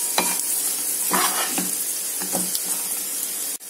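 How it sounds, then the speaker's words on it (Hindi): Schezwan potato wedges fry in a hot pan with a steady loud sizzle, broken by a few scraping stirs as they are turned, and a sharp knock near the end. "अब इसको हम लोग पलट देते हैं दूसरी तरफ से भी, थोड़ा गोल्डन कलर होने तक इसको फ्राई कर देंगे।"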